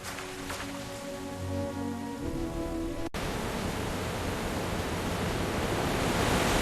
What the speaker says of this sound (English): Look, there's a flood.